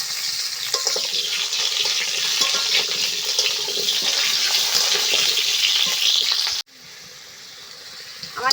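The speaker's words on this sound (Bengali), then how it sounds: "এখন আলুগুলো ভেজে নেব" Potatoes frying in mustard oil in a kadai, a steady loud hiss and crackle of hot oil running without a break, then cutting off abruptly near the end to a much quieter background.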